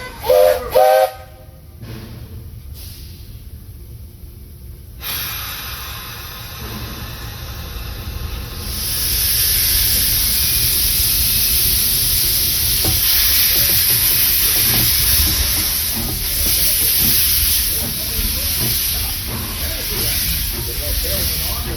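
Walt Disney World Railroad steam train at the Magic Kingdom, a loud whistle blast near the start, then a long, steady roar of escaping steam, with an announcer's voice audible.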